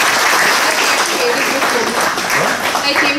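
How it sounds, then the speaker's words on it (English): Loud, close applause from a class fills the room for a student, dense and continuous clapping throughout with voices mixed in beneath it. "I think she really deserves a round of applause."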